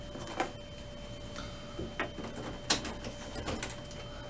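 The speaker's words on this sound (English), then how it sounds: "They just slide right in and kind of click into position." Ink cartridges clicking into place in an Epson WorkForce Pro WF-4734 inkjet printer, a run of small, faint plastic clicks and snaps spread unevenly over a few seconds against a quiet background hum.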